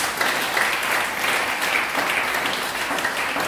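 A church congregation at a French-language service applauds in a dense, steady wash of clapping that holds at an even level throughout, with no voices standing out.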